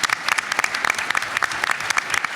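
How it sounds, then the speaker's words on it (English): A room of attendees at an economic forecast event claps for a colleague's promotion, a brisk, dense burst of applause with sharp individual claps close by, continuous and without talk. "Let's give her a round of applause."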